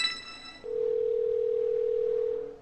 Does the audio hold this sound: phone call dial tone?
yes